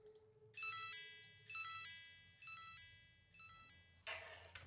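A bright synth tone with the gate effect switched off plays in four repeating bursts with choppy, stuttering glitch artifacts, ending in a noisier smeared hit; no voices.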